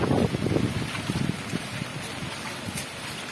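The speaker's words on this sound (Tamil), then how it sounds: "பெரிய காற்றும் மழையுமாக இருக்கு" Strong cyclone wind and rain during a flood walk in Tambaram, heard as loud, rushing gusts buffeting the microphone, strongest at the start and easing into a steady roar.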